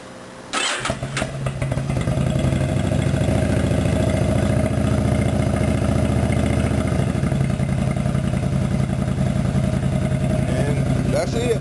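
A Yamaha V-Star 1100 motorcycle engine cranks and catches after a brief pause, then settles into a steady, loud, close idle with a lumpy low rumble for the rest of the time.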